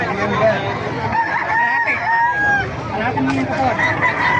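Gamefowl roosters crow close by, with several overlapping drawn-out calls and a few clucks, set against someone talking and background chatter.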